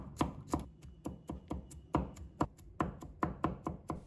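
A knife mincing garlic on a cutting board: a steady run of about a dozen crisp, close chopping strikes with short gaps between them, and no voices.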